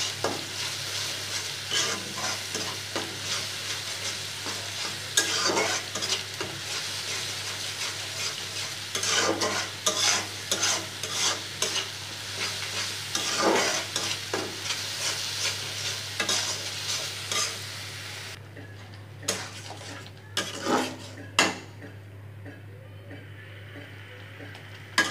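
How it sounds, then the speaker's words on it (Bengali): Ground spices, including coriander powder, are stirred and lightly fried in a pan, with repeated scraping strokes of a spoon over a continuous soft sizzle that turns quieter and sparser near the end. "এবার আমি পুরো মশলাগুলো নেড়ে হালকা একটু ভেজে নেব।"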